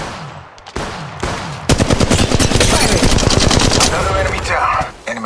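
Rapid automatic weapon fire in Apex Legends Mobile, loud and close, bursts of quick repeated shots building into a sustained stream after a few short opening pops.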